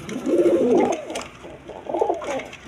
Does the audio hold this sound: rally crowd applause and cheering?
no